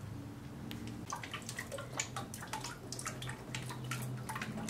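Water drips and trickles at a stone-grinding bench while a cabochon is being shaped, a soft irregular patter of drops over a low steady hum, fairly quiet and close.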